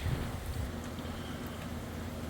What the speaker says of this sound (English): It's starting to get a little bit windy right now